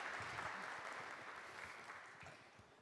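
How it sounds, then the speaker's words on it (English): A crowd claps at a hackathon opening ceremony, a steady, moderately distant round of applause that slowly tapers off. "Give a round of applause, guys."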